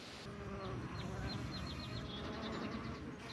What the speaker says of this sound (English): I don't know if you can hear the buzzing, but this is anise hyssop